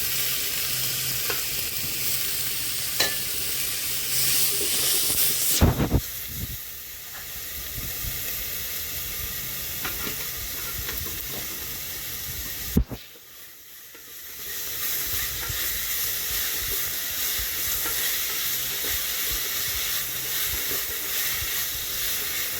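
Soaked tamarind water for thulasi rasam poured into a hot pan, bursting into a loud steady sizzle and hiss with stirring, interrupted by a couple of sharp pauses before the frying resumes.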